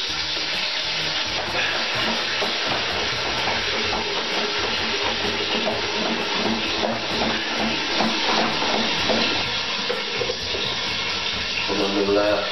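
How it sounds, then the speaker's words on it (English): Tap water runs steadily into a home brew fermenting container while a Coopers Mexican Cerveza kit is being made, a constant close rushing hiss that fills the whole stretch, with brief voices now and then. "fill it up with water."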